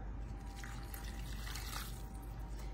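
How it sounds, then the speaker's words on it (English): Two cups of water poured into a pan already holding spinach for a one-pan dinner, a steady close trickle and splash that runs without pause and without talk. "we're going to add our 2 cups of water"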